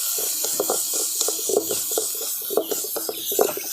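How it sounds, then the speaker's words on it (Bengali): Green pea paste sizzles and hisses steadily as it fries in a pan, with rhythmic scraping and stirring clicks over the continuous frying noise. "মটরশুঁটির পেস্টটা দিয়ে আমি খুব ভালো করে ভাজা ভাজা করে নিচ্ছি।"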